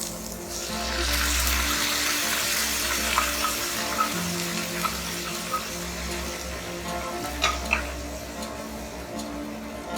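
Pureed peeled tomatoes from two medium tomatoes go into a pan of okra for kadai bhindi, sizzling and bubbling steadily with low cooking rumble and a few sharp spatula clicks, close and continuous without talk.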